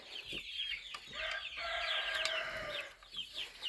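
A hen in a backyard poultry run clucks and sings in a drawn-out, wavering call, fairly near and moderately loud, with a few sharper clucks before and after.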